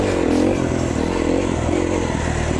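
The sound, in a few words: 2011 KTM 350 XC-F dirt bike engine on the stock setting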